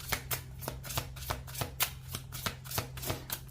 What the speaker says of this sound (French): On commence le taroscope et on va prendre deux cartes.